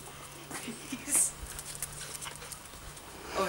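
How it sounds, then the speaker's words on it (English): Puppies pant softly and let out a brief high whimper, faint and close, with scattered quiet voices and rustling around them. "Puppies."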